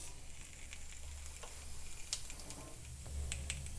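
A spoonful of whole cumin seeds sizzling in hot oil for sabudana khichdi, a quiet, even sizzle dotted with faint ticks and pops, heard up close without speech.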